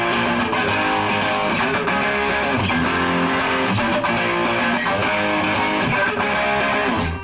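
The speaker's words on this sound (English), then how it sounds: "some amplifiers have a button that you can press or a knob that you can turn up to create this distorted" Distorted electric guitar playing power chords from a song, a thick saturated sustained tone with regular rhythmic strums, loud and alone.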